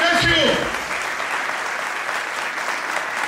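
A church congregation bursts into sustained, even applause, a dense wash of clapping at moderate volume, with a voice speaking briefly over the opening moment.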